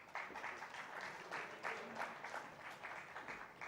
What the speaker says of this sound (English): Let's welcome them both on stage with a round of applause